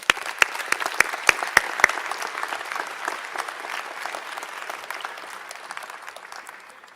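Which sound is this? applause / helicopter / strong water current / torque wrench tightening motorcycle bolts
applause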